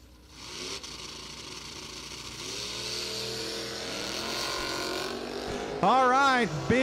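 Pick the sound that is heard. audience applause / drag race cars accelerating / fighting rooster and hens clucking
drag race cars accelerating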